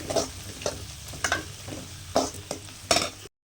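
Ginger and garlic sautéing in a pan, with a steady sizzle broken by repeated sharp scraping stirs of a utensil against the pan, close and unaccompanied by talk.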